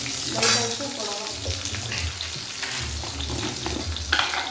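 Garlic, small onions (shallots) and curry leaves fry in a pan while being stirred, giving a loud continuous sizzle with scraping strokes of a spoon, close and without talk.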